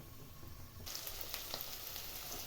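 Matumbo (beef tripe) sizzles and fries in a pan for a wet-fry dish, a soft, close, steady crackle that grows a little brighter partway through.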